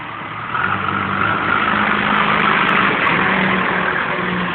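A big vehicle's engine rumbles at a steady idle as it pulls up nearby, a low continuous drone that swells slightly after the first second and holds loud throughout.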